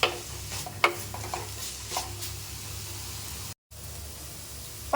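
Vegetables sautéing in a pan for egg fried rice, a soft low sizzle with a few sharp spatula clinks and stirring scrapes, faint and close, broken by a brief gap of silence.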